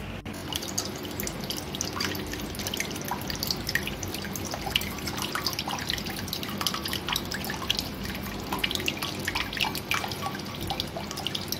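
Water from a freshly cut-open green coconut pours out in a steady trickling, dripping stream, close and continuous with no talking.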